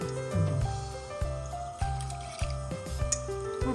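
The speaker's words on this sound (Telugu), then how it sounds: "రైస్ యాడ్ చేస్తున్నానండి" Rice poured into a pot of boiling water while cooking mutton biryani, giving a continuous wet bubbling and squishing hiss with soft liquid splashes and drips, close and steady throughout.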